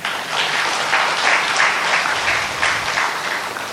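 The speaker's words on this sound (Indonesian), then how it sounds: "Tepuk tangan untuk anak-anak kita." Audience applause for children at a medal presentation ceremony in Indonesia; dense, steady clapping from a large crowd, fairly loud and continuous with no talking.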